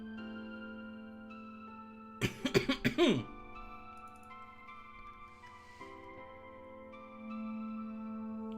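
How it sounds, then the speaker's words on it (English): A cough fit in a quiet room during a live Unreal Engine 5 tutorial stream: a short cluster of four or five sharp, close coughs, then steady low background hum. "Excuse me, still for the coughing."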